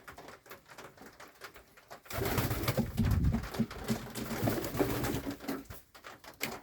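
Pigeons coo softly and repeatedly nearby at a countryside dacha, their low throaty calls layered over a steady background murmur with some fluttering and shuffling.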